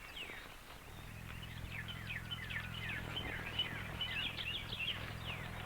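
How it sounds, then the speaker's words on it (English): Several mockingbirds sing and chirp in varied, repeated phrases at moderate distance, over a low steady hum. "These birds you're listening to are mockingbirds"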